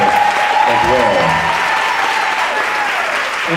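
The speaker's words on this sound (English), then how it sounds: "will y'all give those folks, those hardworking individuals, a round of applause as well." Loud, sustained applause from a large crowd at an early-voting event at a college campus, continuous clapping with cheers and voices rising over it, gradually easing slightly toward the end.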